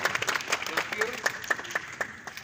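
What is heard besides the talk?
applause for JPS at a parliamentary meeting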